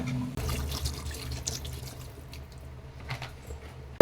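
Water splashes and trickles into a cooking pot of sautéed brinjal and drumstick for sambar, a short, soft pour at close range with faint drips.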